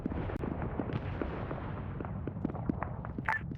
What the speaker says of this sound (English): Alpha, was that airstrike good?